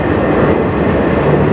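A CN manifest freight train led by locomotives CN 3077 and CN 2914 rolls past near Sarnia, Ontario, with a loud, close, unbroken rumble of wheels and cars.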